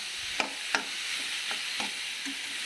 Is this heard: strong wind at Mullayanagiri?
no